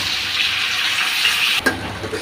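Garlic and cumin paste frying with chopped onions in a pan, a steady loud sizzle with bubbling crackle that briefly breaks off and resumes near the end.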